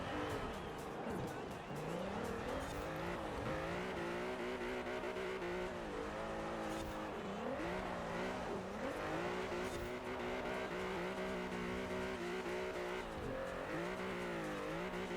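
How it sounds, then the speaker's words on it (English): A small car's engine buzzes high and thin like a mosquito during an off-road or hill race, a steady whining drone that rises and falls with gear changes, tires faintly squealing, continuous and close throughout. "That car sounds like a mosquito."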